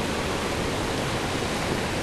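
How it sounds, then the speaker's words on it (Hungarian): Water pours down Niagara's American Falls, heard as a constant, loud broadband roar with no breaks. "és itt esik lefelé a víz"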